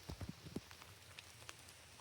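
Rain falling outdoors, very faint, with scattered soft drops and patters over a quiet background, close by and with no talking.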